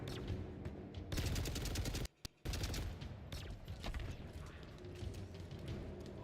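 Machine gun turret fire in a shooter video game, long bursts of rapid, dense shots with a brief silent gap midway, then more sustained clattering fire at moderate distance.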